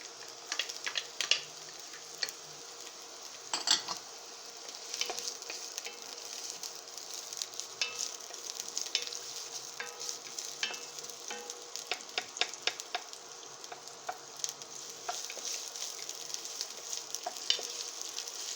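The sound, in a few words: chopped onions and garlic frying in oil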